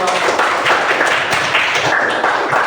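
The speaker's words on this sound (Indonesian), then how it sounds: "Tepuk tangan Nafu" A classroom of students claps for a classmate during a fractions lesson, a steady crackle of many hands filling the whole stretch at close range.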